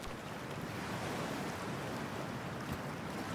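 A steady wash of water and wind noise fills the scene as a character enters freezing water in the video game Cyberpunk 2077. The noise is even and continuous with no distinct splash, and no voices are heard.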